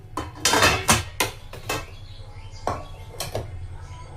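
A plate is picked up and handled in a home kitchen during cake making, several close ceramic clinks and knocks in quick bursts, then quieter handling noises.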